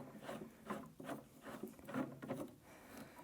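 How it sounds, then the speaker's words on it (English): A plastic knob being turned to tighten the handle on a Combo Chair during assembly, giving soft repeated rubbing and creaking scrapes in a steady rhythm, close by with no talking. "I'm going to continue tightening the knob now."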